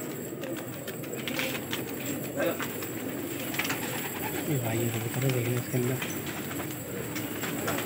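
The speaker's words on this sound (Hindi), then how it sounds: "भाई कबूतर बोल रहे हैं" Pigeons coo in low, repeated phrases amid a busy flock of about 200 birds, with wing flutters and someone talking over them.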